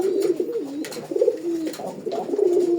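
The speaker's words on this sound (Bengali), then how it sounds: "মানে কবুতরের ডাক 100" A Golla pigeon coos close by in low, rolling, repeated phrases, with no one talking.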